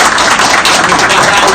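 A crowd at a political presentation by Haiti's Réveil national pour la souveraineté claps loudly and densely, a brief unbroken burst of applause close to the listener.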